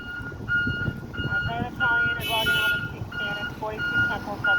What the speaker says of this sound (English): everybody's beeping their horns.